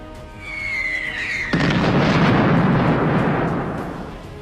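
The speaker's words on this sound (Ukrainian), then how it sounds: "Ще один постріл з артистичною точністю, як в цирку." A steady whine is cut by one sudden heavy boom of an artillery shot, followed by a long rumbling roar that slowly fades.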